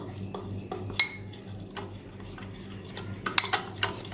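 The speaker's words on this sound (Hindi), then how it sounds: "इसे अब मिक्स कर लेंगे" A spoon stirs dark chocolate and microwaved cream into ganache in a bowl, soft scraping with sharp clinks of metal against the dish, close up and without talking.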